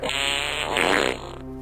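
A single drawn-out fart, loud and close, buzzing steadily for over a second before trailing off.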